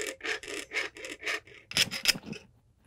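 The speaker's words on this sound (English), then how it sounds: "So you're really having a nice relaxed grip on the blade. And you just saw. You just stay right on that line." Hand saw cutting sheet metal for jewelry, about ten quick, even rasping strokes back and forth, close up, then a few sharper scrapes before stopping.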